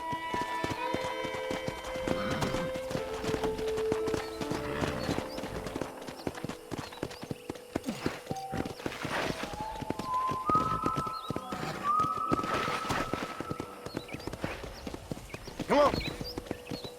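Horse hooves clip-clopping steadily while riding through a ranch town in Red Dead Redemption, under game music and ambient sound, with speech present.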